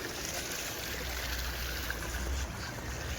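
Steady broadband rush of the Indus River flowing in Ladakh with a low rumble underneath, continuous and fairly close, no voices.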